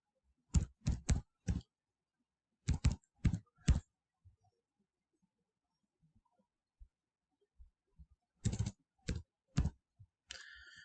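Fingers type an Aadhaar number on a computer keyboard in quick clusters of three or four crisp, close keystrokes, separated by quiet pauses and a few isolated soft clicks.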